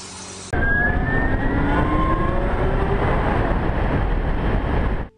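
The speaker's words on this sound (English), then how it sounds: "I'm in an electric airplane today, and we're gonna go fly it." A loud, steady motor whine with rising tonal pitches, like an electric airplane powering up, heard up close and continuous until it stops.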